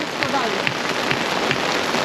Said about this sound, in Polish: Ulewa, deszcz, leje.